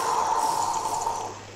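Water in a Minecraft game, a steady close trickling, bubbling wash of liquid running for a moment alone, then cutting off.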